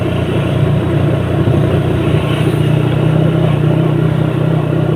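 A 1000cc motorcycle rolling downhill on the road toward Mubo gives a steady, loud, close engine drone with a low rumbling hum, unbroken for the whole stretch and with no voices.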